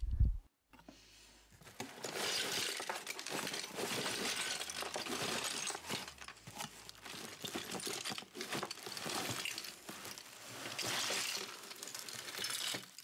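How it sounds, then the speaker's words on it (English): Continuous clattering and rattling of many small hard fragments, loud and busy, shaken together for several seconds with no talking. "That really sounded like a lot of broken bits."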